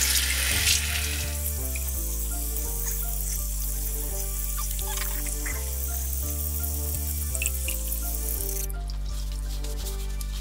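Water runs steadily from a bathroom tap as a face is rinsed at the sink, a continuous splashing wash under a faint background hum, with no talking.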